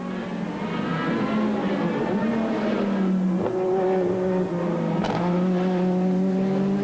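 Race cars roar through a 1988 Superproduction race at Castellet, including a Renault 21, Porsche and Citroën; loud, sustained engine drone with shifting pitch and a couple of sharp revving swells, continuous throughout.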